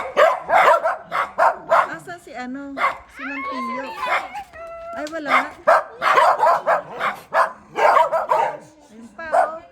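Several dogs bark, yip and whimper at close range in La Trinidad, Pico, Baguio City, in uneven bursts mixed with people talking excitedly nearby.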